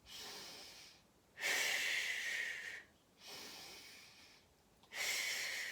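Three strong, breathy exhales during a Pilates core exercise with head and shoulders curled off the mat, each a forceful hiss lasting over a second, alternating with quieter inhales, close and clear with no talking.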